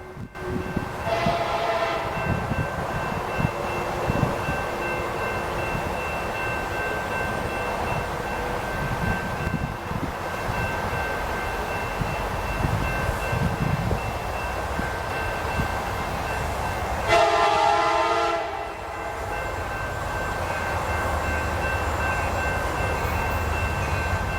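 A CSX freight train rolls past on the Saginaw Subdivision, its horn blaring in a couple of long blasts over the continuous rumble and clatter of cars, loud and close throughout.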